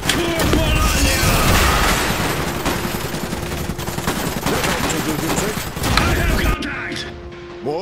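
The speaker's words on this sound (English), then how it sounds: "We're taking fire!" Dense battlefield gunfire from the strategy game Iron Harvest, with rapid machine-gun bursts and scattered shots over a steady din of combat, loud and continuous before thinning out near the end.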